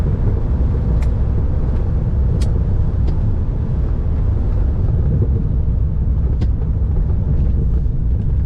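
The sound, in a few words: sports car exhaust, stock muffler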